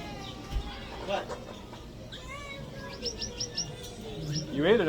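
Small birds chirping and tweeting at an aquarium aviary, with scattered short high calls and a few whistled notes mixed with people talking nearby.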